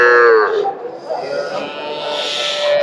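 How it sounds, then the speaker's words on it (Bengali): A cow moos loudly and close at a busy cattle market, one drawn-out bellow at the start followed by a second lower moo, over crowd murmur. "আমি দেখতে পাচ্ছি এই পাশে একটা গাবি"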